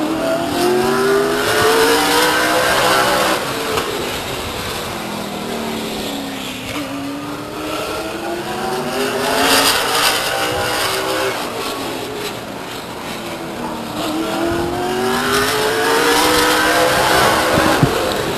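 A late model stock race car runs a qualifying lap at Stockton 99 Speedway, its loud engine revving and sweeping up and down in repeated waves as it circles the track, steady and continuous.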